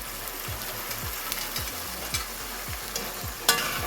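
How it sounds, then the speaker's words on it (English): Beans with bay leaf and green seasoning fry in a hot pan over high heat, giving a constant loud sizzle close up, with a soft rhythmic scraping of stirring about twice a second and one sharper clatter near the end. "And we're going to fry those beans."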